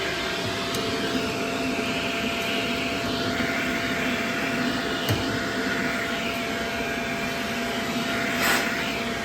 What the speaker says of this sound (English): there is a good bit of debris under there. I'm just going to vacuum out.